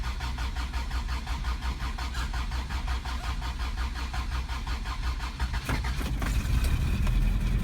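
A lifted 2WD 1987 Toyota Pickup with a 22R engine cold-starts, the starter cranking rhythmically before the engine catches and settles into a loud, slightly rough idle up close.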